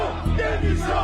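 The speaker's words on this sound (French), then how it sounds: "chahutée par les manifestants qui scandaient « Démission »" Protesting farmers outside the Palais Bourbon in Paris, a loud crowd chanting and booing, with rhythmic shouted bursts rising and falling over a dense wall of voices.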